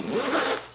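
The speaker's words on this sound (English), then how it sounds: "The zipper's kind of hidden, and there's a zipper here" A single quick zip on a Condor Elite Sector sling bag, a close, crisp rasp lasting under a second.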